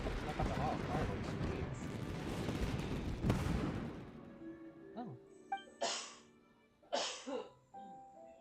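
Fireworks go off in a Genshin Impact festival scene, with a dense crackling, booming barrage for the first few seconds, then several sharp bursts and pops spaced apart amid quieter game ambience and voice.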